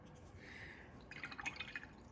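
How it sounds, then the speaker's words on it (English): A watercolour brush is rinsed in a small cup of water, giving a faint soft trickle and then a brief cluster of quiet drips and swishes, close up with no talking. "washing my brush, dapping the excess water"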